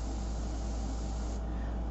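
Airbrush spraying paint, a steady continuous hiss of compressed air throughout, close and even with no pauses.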